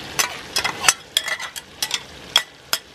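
Ham frying on a disco wok (discada cowboy wok), sharp metallic scrapes and clanks of a utensil stirring the meat in irregular bursts over a quiet sizzle, close and loud.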